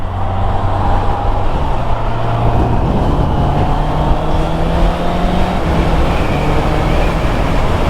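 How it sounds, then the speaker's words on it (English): A Honda CB650R motorcycle under way with its quick shifter, giving a steady, loud engine drone with wind rush that holds throughout, the pitch stepping between gears. "We are on the Honda CB650R."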